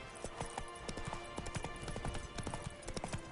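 Hooves of Roach, the horse in The Witcher 3, clop in a quick steady beat, fairly quiet but clear across a short stretch.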